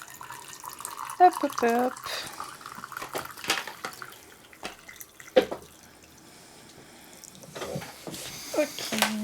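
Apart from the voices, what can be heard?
tap water running to fill for tea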